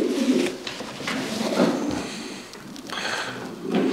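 Coos from a well-built male racing pigeon, low soft rolling calls repeating several times over a steady background, close by with no talk.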